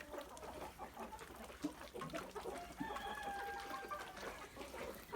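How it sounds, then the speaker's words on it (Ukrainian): Hens clucking in a busy farmyard, with a rooster's drawn-out crow rising near the middle, fairly close and steady. "Оцей хороший півник"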